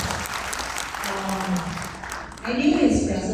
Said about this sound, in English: It's given another round of applause,